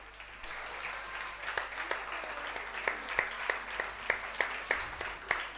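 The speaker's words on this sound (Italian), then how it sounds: "fatecelo sentire con l'unico modo che ci piace, il vostro applauso" A theatre audience at a cabaret show applauds steadily, a dense patter of many hands with sharper individual claps popping out as the clapping builds.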